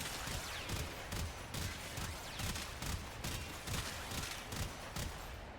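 The Perigale Prime rifle fires in a Warframe-style shooter game in steady, rhythmic bursts, each shot a punchy thump with a crackling blast tail, repeating about twice a second.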